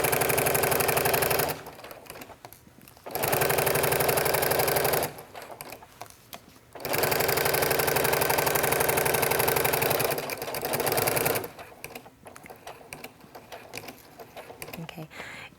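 Sewing machine with a walking foot stitching waterproof backpack fabric, running in several steady mechanical bursts separated by pauses, close and clear, with a person talking between runs.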